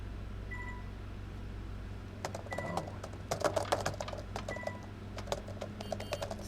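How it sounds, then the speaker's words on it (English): Hard keyboard typing by a character in Quantum Break: rapid clusters of clacking keystrokes that start after a quiet stretch, close and fairly clear over a steady low electronic hum. "Typing really hard too."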